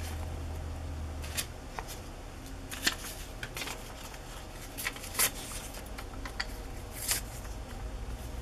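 Sheets of mulberry paper printed with flowers are handled for collage, giving soft papery rustles and a few sharper crinkles and flicks at irregular intervals over a quiet background hum.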